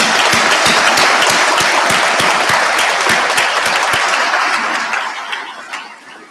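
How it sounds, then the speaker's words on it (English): A convocation crowd of graduands and guests in War Memorial Hall applauds, a dense, steady roar of many hands close by that gradually thins and fades over the final seconds. "Round of applause for you."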